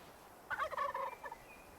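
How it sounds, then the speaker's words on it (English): Wild turkeys gobble in the hunting game Way of the Hunter 2, a single rapid rattling gobble burst lasting under a second, moderately near against a quiet outdoor ambience with no talk. "You spooked the turkeys."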